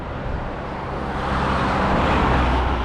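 Traffic rolling past on a two-lane hill road in Japan, a steady broadband roar of several cars that swells louder in the second half as vehicles draw closer, heard alone without voices.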